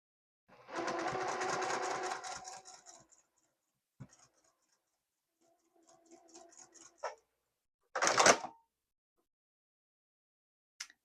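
A sewing machine stitching yarn rectangles together runs in a short whirring burst, then quieter intermittent stitching and clicks, with a sharp handling noise near the end.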